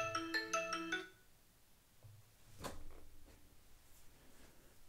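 A phone ringtone chimes in a quick melodic burst, set off remotely from a Xiaomi Watch S3 find-phone feature, then stops, followed by faint handling clicks and rustles in a quiet room.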